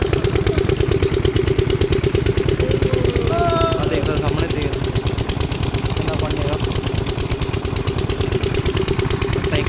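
Diesel farm engine running continuously at a field, a loud steady chugging throb with rhythmic clatter, close by and unbroken, with brief whistling tones mixed in.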